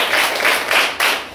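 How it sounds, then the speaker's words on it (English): A class of students applauds their three debate judges in a school classroom, a brief burst of overlapping claps that swells and dips before trailing off. "round of applause for our 3 judges."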